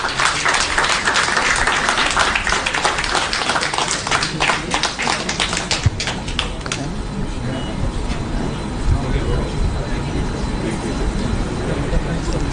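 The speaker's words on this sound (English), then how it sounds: "A big round of applause, please" An audience at an interior design chapter evening bursts into dense, loud applause that thins out after about six seconds into murmuring room noise and scattered voices.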